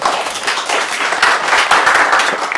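Applause from the audience at a book concert presentation, a dense, steady burst of clapping from many hands at close range.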